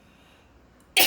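After a quiet pause, a sudden sharp cough bursts out near the end as someone chokes on a swallowed cough drop, a single loud close rasp.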